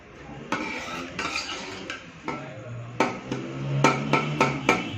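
A spoon clinks and scrapes against a dish while tomatoes are mixed into red lobia chaat, a run of sharp, irregular taps that quicken toward the end, close and fairly quiet.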